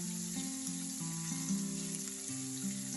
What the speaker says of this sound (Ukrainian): Посмажила я цибулю до прозрачності і додала суміш.